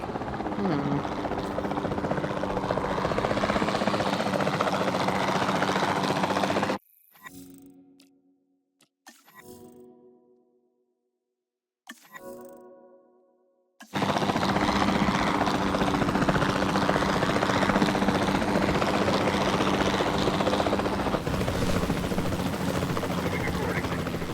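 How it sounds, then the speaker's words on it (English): A capture team helicopter in Jurassic World Evolution 2 keeps up a loud, steady rotor drone. Midway it drops out for several seconds of near silence with faint sounds, then the same roar returns. "Then the sensible thing is to take a capture team helicopter."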